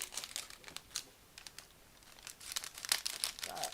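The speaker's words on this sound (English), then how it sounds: "I have no idea how loud this wriggling plastic comes through." Crinkly plastic packaging rustles in irregular bursts, close and fairly quiet, with sharper crackles near the end.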